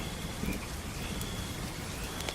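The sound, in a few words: heavy rain falling outside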